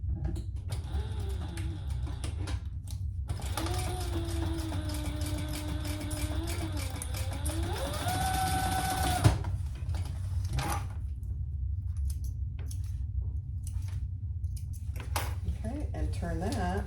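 A sewing machine stitches a curved leather gusset on a waist pack, producing mechanical creaks and whirring runs in spurts with pauses between, close and moderately quiet, while a person talks over parts of it.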